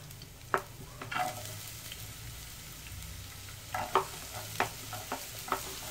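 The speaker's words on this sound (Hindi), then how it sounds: "अब मैं इसमें डाल दूंगी प्याज" Chopped onion fries in a small amount of hot oil, a soft continuous sizzle broken by several sharp scraping and tapping strokes of a spoon against the pan, close by.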